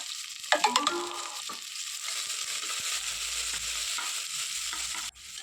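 Onions and green chillies fry in a pan with a loud, steady sizzle. Several quick metallic clinks of a stirring spoon come early, with no talk.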